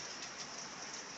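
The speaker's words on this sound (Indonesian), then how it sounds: "Hujan." Rain falls as a steady, soft wash of hiss with no distinct drops, faint and even throughout.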